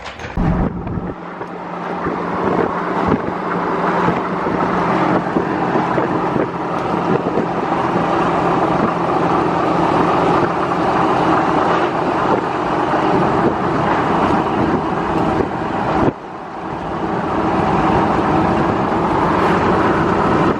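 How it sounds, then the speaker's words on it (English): A Jeep YJ runs while being driven, producing a loud, continuous broadband rumble of engine and road and wind noise with a brief dip near the end, and no talking. "Jeep's riding good. Running good, baby."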